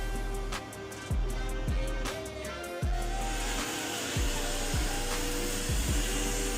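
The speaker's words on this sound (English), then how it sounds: "it involves using my vacuum" A shop vacuum cleaner whines loudly while sucking clear coat flakes out of a 1955 Chevy 3100 truck interior, its roar shifting as the nozzle moves, with repeated knocking thumps against the cab.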